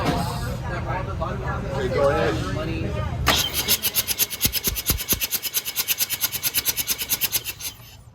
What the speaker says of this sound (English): Pulling spark plugs, checking to see if I can hear compression pulses.